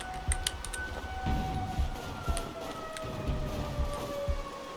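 A faint wailing siren rises and falls in the background of a Sniper Ghost Warrior Contracts soundscape, over low rumbling and scattered sharp clicks and impacts.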